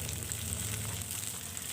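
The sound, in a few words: frying green chilies, garlic and lime leaves in oil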